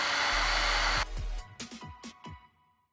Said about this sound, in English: we're gonna go ahead and grab our heat gun, give it a little bit of heat